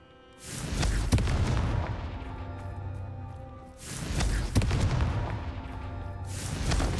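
Two Confringo fire-spell blasts from Hogwarts Legacy, each a heavy booming explosion with a long rumbling tail, the second hitting a few seconds after the first, with a third blast just starting at the end.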